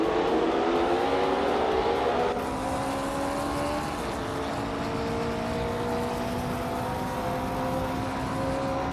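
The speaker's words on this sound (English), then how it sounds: "Maya is racing a 1966 McLaren M1B, a vintage ultralight" A 1966 McLaren M1B vintage ultralight race car in a racing video game, its engine droning at a high, steady pitch. It climbs and shifts near the start, then holds a sustained, fairly loud tone at speed.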